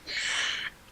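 A single short, breathy sneeze bursts out near the mic during a podcast conversation, a quick hissing exhale under a second long, fairly quiet and heard on its own.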